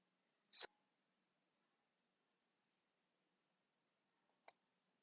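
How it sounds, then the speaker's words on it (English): Two sharp mouse clicks on a computer during a Java SE Development Kit 15 installation on Windows, one early and one near the end with a faint pre-click, otherwise near silence. "I'm clicking on OK."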